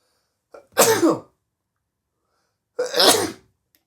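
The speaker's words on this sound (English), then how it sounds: "I'm about to sneeze, oh my god." Two loud hay fever sneezes, close up, separated by a couple of seconds of silence, each with a short sharp intake before the burst.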